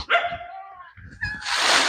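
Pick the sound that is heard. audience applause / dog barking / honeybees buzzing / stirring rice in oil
dog barking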